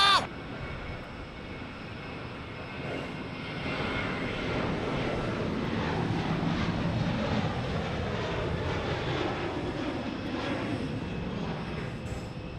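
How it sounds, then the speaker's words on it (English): A Boeing 737 Max 8 airliner takes off at Phoenix Sky Harbor Airport, its jet roar building and swelling with a sweeping, shifting tone over a long stretch, heard from a distance outdoors. "It is taking off right now, Max 8"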